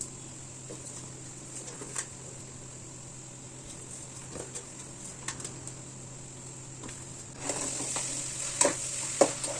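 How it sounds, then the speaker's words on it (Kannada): Flattened rice (avalakki) tipped into a hot oil tempering in a pan, with a soft steady sizzle, scattered scrapes and stirring clicks, and the frying hiss growing louder and brighter near the end. "ರೆಡಿ ಮಾಡ್ಕೊಂಡಿರೋಂಥ ಅವಲಕ್ಕಿನ ಒಗ್ಗರಣೆಗೆ ಹಾಕ್ತಾ ಇದ್ದೀನಿ."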